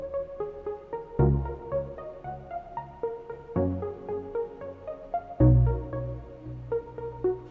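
A busy, overcomplicated synth melody with no clear direction or hook runs over a sparse beat, with many quick notes and deep bass hits landing every couple of seconds, played at moderate volume and with no talk.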